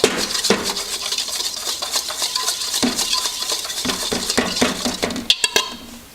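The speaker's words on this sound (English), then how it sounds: "pepper, stir this up well" A spoon stirs pepper and paprika through fresh vegetables in a pot for a green bean casserole, with rapid, repeated close clinks and scrapes of metal on the cookware, ending in a few louder knocks.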